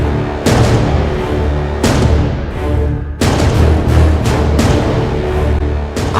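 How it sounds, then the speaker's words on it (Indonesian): Heavy booming blasts of cannon fire, several big impacts in a row with rumbling decay between them, loud and continuous. "Area sekitar markas radio pemberontakan tak luput dari bombardir meriam."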